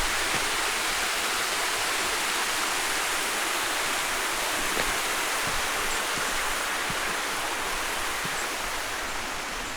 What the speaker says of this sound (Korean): 이렇게 시원한 물소리와 함께